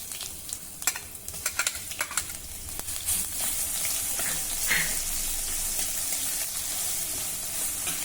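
Cumin, fenugreek seeds, a pinch of asafoetida and ginger-garlic paste fry in a pan for kokum kadhi, a soft steady sizzle that swells and holds after a few light stirring clicks early on.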